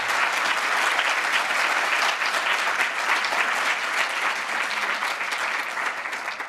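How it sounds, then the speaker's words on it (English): Sustained audience applause at a European forum on children's rights, honouring young participants: dense, steady clapping from a full room for several seconds, easing off slightly at the end. "a big round of applause for our young participants here today"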